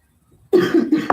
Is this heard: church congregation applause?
no